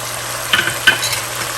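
Cumin and salt dropped into a hot pan for a shahi white korma, a steady close sizzle with two sharp bursts as the spices hit the oil, no voices.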